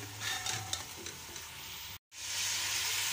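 Chicken sizzles and fries in a handi pot with a steady, hissing crackle, broken by a brief silent gap midway.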